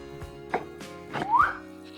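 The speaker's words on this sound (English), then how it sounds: "Why is he whistling?" A man whistles a brief rising note amid clattering kitchen sounds and short knocks, near and moderately loud, with no talking.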